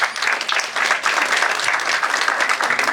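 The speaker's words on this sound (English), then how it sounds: "I can say you can have a clapping for Professor Iyer." An audience at an awards ceremony applauds Professor Iyer with dense, sustained clapping that runs steadily throughout.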